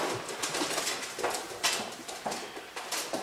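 Racing pigeons from a 2016 breeding season coo softly in a loft, faint repeated throaty calls rising in a loose rhythm with no talking.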